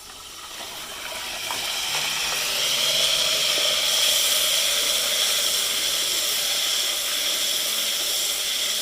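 Ginger garlic paste sizzles in a pan of browned onions while cooking chicken gobi keema, a steady loud hiss that builds over the first two seconds and holds evenly throughout, with no talk.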